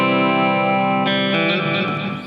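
A guitar amp's reverb effect rings out: sustained chords held with a lush, washy tail, then a fresh strummed chord that blooms and decays into spacious reverberation, loud and close.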